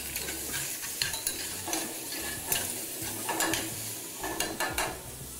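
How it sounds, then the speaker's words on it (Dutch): Lamb trimmings sizzle and crackle in a little oil in a pan, a steady close frying hiss with occasional stirring scrapes and clinks throughout. "Beetje goud bruin bakken."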